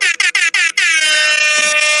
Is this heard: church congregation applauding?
no